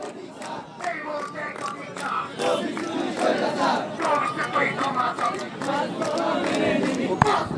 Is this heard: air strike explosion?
no